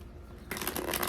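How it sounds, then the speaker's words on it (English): A deck of cards being shuffled up close, a quiet rustle that breaks into a sharp, continuous riffling flutter partway through. "Pull some cards."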